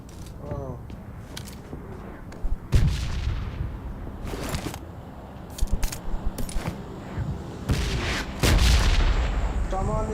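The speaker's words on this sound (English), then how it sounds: "Someone is shooting us from where I don't." Gunfire aimed at the player in a shooter video game: sharp bursts of shots, some distant and some near, scattered across the span with clinking impacts, while a player talks over them.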